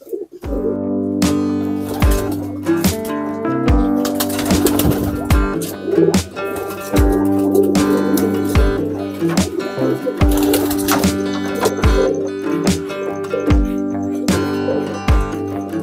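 Racing pigeons (merpati) cooing over a continuous musical background, with repeated low coos blending into steady instrumental tones throughout.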